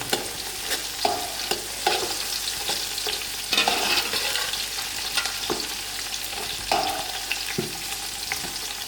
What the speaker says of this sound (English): my thyme, my curry leaf, and stir.